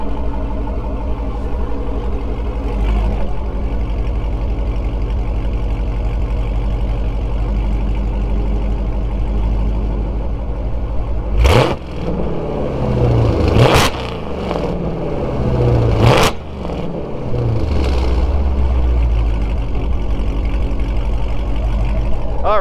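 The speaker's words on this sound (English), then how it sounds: "rev the engine a little bit so you can hear some of that lovely Borla and Hemi V8 music" A supercharged Hemi V8 in a 2019 Jeep Grand Cherokee SRT with Whipple supercharger and Borla exhaust rumbles at a heavy, loud idle, then blips sharply several times, each rev roaring up and falling back to the deep burble.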